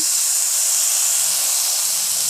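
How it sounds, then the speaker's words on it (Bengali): Water splashed onto a very hot tawa griddle hisses loudly and continuously, a dense close steam hiss with no voices over it. "তাওয়াটাকে কিন্তু খুব ভালো করে গরম করে নিতে হবে। আমি একটু জল দিয়ে দিচ্ছি।"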